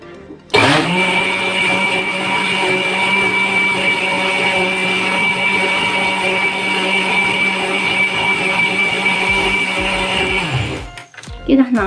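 An electric mixer whirs steadily while blending milk for homemade yogurt, a loud, continuous motor drone lasting about ten seconds after switching on, then cutting off abruptly.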